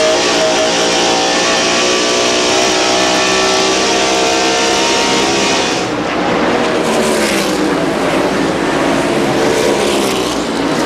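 A NASCAR Winston Cup stock car screams past at Darlington near 8,200 RPM, a loud sustained high-revving engine wail that shifts pitch as it goes by, with the roar of the race filling the whole stretch.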